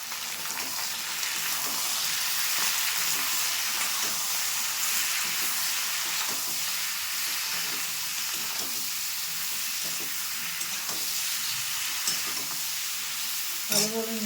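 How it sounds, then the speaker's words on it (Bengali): Green beans and potatoes fry in a pan with salt and turmeric, giving a steady, close sizzle and hiss that carries throughout, with faint scraping of stirring underneath and a small clatter near the end. "আর একটু ভেজে নেব।"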